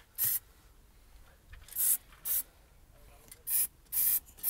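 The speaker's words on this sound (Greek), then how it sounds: "Εκεί πώς το ρίξα εγώ σπρέι και πήγε." A spray paint can sprays a Mazda RX-7 FD in six short, close hissing bursts separated by quiet gaps, with faint background sound between them.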